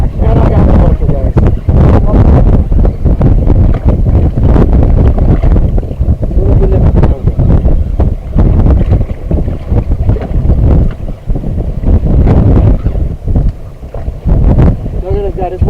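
Motor of a small fishing boat running on open water, a loud continuous engine drone mixed with heavy wind buffeting and splashing, with voices talking over it.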